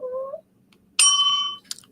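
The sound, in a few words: bell ringing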